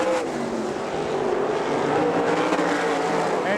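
AVSS 410 sprint cars roaring around Butler Motor Speedway in Quincy, Michigan, a loud, continuous droning engine snarl filling the air without pause.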